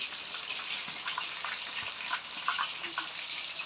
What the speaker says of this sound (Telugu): సో ఇట్లా ఫ్రై అవుతుంది.